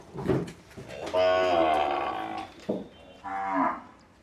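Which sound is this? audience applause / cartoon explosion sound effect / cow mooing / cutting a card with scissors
cow mooing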